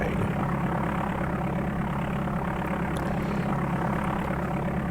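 The aircraft engine in DOS Flight Simulator 4 gives a constant loud, low droning hum with a buzzy propeller-like texture, unchanging and steady throughout.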